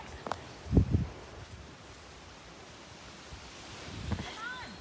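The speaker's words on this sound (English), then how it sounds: "Super windy today." Strong gusty wind outdoors on a farm, a broad steady rushing noise with buffeting thumps against the microphone and a few brief faint vocal sounds.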